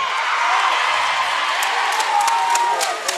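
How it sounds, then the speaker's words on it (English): A crowd at a university varsity netball match roars and cheers in a dense, sustained wash of noise, loud and continuous with scattered sharper shouts and whoops rising above it. "As you can hear, many roars from the crowd"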